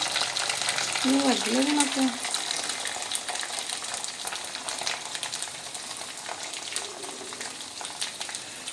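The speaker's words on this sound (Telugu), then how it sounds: "కరివేపాకు వేసిన తర్వాత పట్ట సౌండ్ వస్తుంది కదా, అది నాకు చాలా ఇష్టం" Curry leaves dropped into hot oil for an egg curry crackle and sizzle in a continuous close hiss, with a brief voice early on and occasional stirring beneath.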